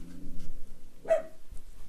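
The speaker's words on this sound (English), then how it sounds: "so they're making my dog bark." A pet dog indoors gives a single short bark, with a faint muffled background and a soft thump just after.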